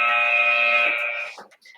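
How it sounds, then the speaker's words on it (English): A workout timer buzzer blares a loud, steady electronic tone for just over a second, then cuts off, followed by brief faint sounds. "Going to be making our way back to our feet when the buzzer goes."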